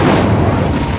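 Incendio fire spell cast in Hogwarts Legacy, a loud, dense burst of fiery roar and boom lasting about a second, close and continuous with no talk.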